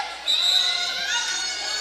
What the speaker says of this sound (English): You can hear them chanting